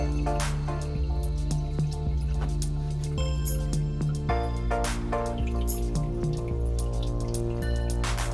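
Water is poured back into a planted Walstad aquarium bowl during a water change, with close continuous trickling and splashing, scattered drips and small bubbling squishes throughout.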